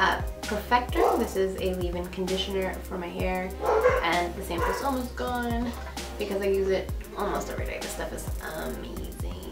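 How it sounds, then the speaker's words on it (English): Dogs bark and yip repeatedly in the background of a room while someone talks steadily over them about hair products. "sorry for the dogs in the background."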